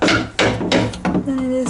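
Hammer blows on wood while a chicken coop frame is built, three loud close strikes in quick succession, followed by a brief ringing tone.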